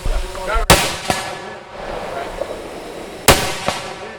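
Two loud, close gunshots fire about two and a half seconds apart during a tactical training exercise, each followed by a quick echoing report, with busy outdoor background and voices around.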